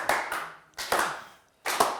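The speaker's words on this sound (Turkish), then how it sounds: "Hiç bu üzgün alkışlara takılmayın İrem Hanım." Sparse, half-hearted applause comes from a quiz show audience: three short bursts of a few claps each, separated by brief silences.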